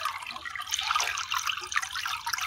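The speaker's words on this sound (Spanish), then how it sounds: "Esta fuente de agua se encuentra aquí en el río Tecolostote." Natural spring water flowing beside the Tecolostote river, a close, bright, continuous splashing and trickling with no one talking.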